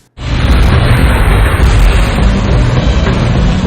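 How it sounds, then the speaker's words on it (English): A massive explosion in a Madness Combat animation erupts suddenly after a brief silence, then holds as a loud, dense, sustained roar of blast and debris for several seconds. "ends up causing a massive explosion"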